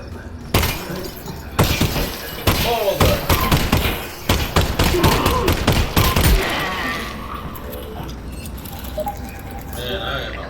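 Gunfire in the VR game Half-Life: Alyx: a rapid volley of sharp, loud shots and impacts spread across several seconds, with someone talking between bursts.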